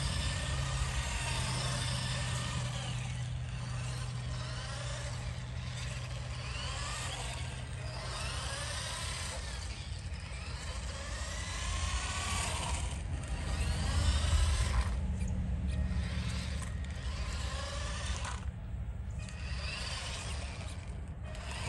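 Traxxas four-wheel-drive RC truck driving over grass, a faint whirring, ratcheting motor buzz with wheels brushing through grass, fluctuating as it moves and turns over a long stretch.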